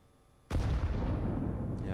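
A single sharp, loud AK rifle blast in a competitive shooter game, with a sudden attack and a long rumbling decay that fills the rest of the moment, followed by a faint second pop.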